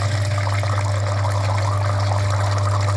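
Flushing liquid surging up through a badly clogged heater radiator on a Mitsubishi Lancer 9, heard as a steady, loud gurgling flow over a constant low machine hum from the flushing unit, with no speech.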